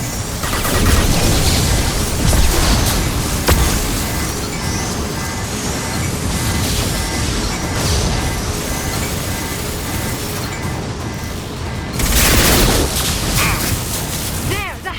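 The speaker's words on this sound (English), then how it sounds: "Heavy weapons inbound. Watch out, flashbangs!" Flashbang grenades and gunfire in a Mass Effect 2 firefight, with repeated booms, bursts and crackling shots running throughout and a loud explosive surge near the end, while voices talk under the combat noise.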